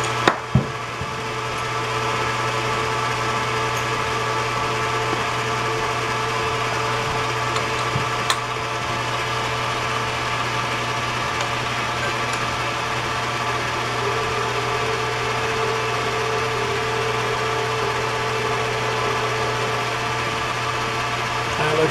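Steady lathe whir while center drilling metal, with a constant low hum and faint high hiss, running evenly throughout with little change, a few brief clicks near the start.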